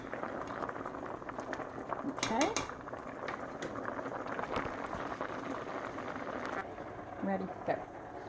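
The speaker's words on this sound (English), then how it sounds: "my spaghetti's boiling pretty good" A pot of spaghetti bubbles and rattles steadily at a rolling boil, a continuous busy gurgling with a few sharper clinks over it.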